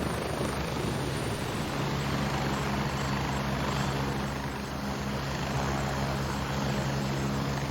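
A helicopter in the military shooter game Gray Zone Warfare roars as it takes off, a loud, constant rotor and engine drone close by that stays steady throughout, with no voices.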